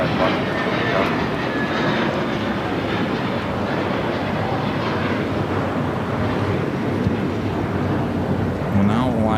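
Jet airliner taking off from runway 25 at LAX, a loud, steady broadband engine roar filling the whole stretch without a break.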